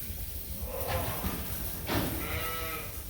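Flock of about forty sheep being herded into a group for lice treatment on a farm, with a couple of short bleats and shuffling over a steady outdoor background.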